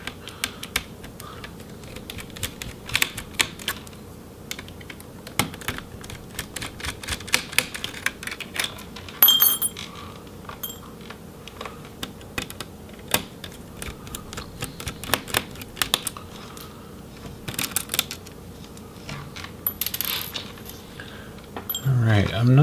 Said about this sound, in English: we'll go ahead and remove the rest of the screws that are holding that motherboard in place